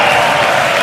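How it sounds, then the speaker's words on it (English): Crowd in a hockey arena during a Skellefteå AIK versus HC Davos game, a dense, loud roar of cheering and clapping that holds steady through a brief burst. "And the crowd really getting into this one"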